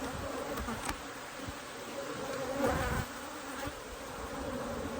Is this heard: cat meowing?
no